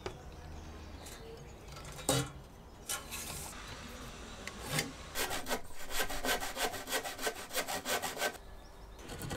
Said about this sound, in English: The stability of this table obviously isn't ideal for sawing, but I made it work through this process.